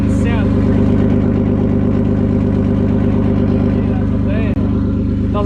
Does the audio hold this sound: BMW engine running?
yes